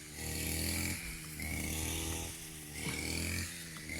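A grass cutter engine runs close by at a steady, loud roar, surging and easing in repeated cycles roughly every second, with no talking over it.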